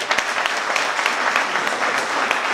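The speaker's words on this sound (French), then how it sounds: "Ça s'applaudit, hein?" An audience at a lecture in London breaks into steady applause, many hands clapping in a dense, continuous patter with a few sharper claps standing out.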